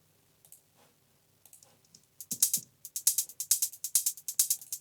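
Quick, crisp hi-hat hits in an electronic music production, sparse and soft at first, then a fast, bright, steady run of sharp ticks, close and dry with no voices.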